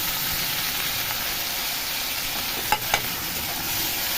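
Tomatoes frying in a hot kadai give off a steady, even sizzling hiss throughout, broken near the end by two brief clinks or stirs, with no talking.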